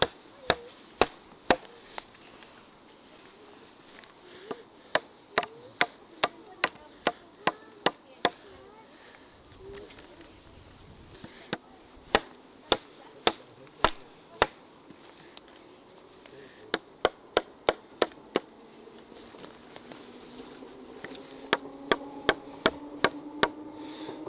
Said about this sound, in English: get a bit of wood and start hammering the bit of wood in